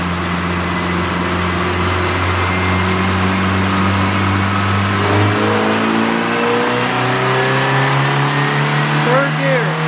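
A 1986 Plymouth Voyager's 2.2-liter engine runs steadily on a dyno, its droning tone holding then shifting as the load changes, with people talking over it.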